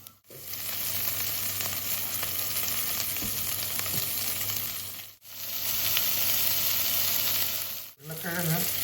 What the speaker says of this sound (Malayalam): ഇനി അതിലേക്ക് ഉരുളക്കിഴങ്ങിട്ട് നന്നായിട്ട് വഴറ്റിയെടുക്കണം